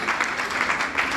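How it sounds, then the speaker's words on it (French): An audience claps at an award ceremony honouring African women, a brief burst of dense, even applause with no voices over it. "Sous vos applaudissements,"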